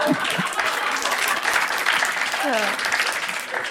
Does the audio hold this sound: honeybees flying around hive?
no